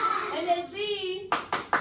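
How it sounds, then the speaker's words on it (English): A voice speaks briefly, then two hands clap three times in quick, crisp succession, close by. "we both clap with our hands"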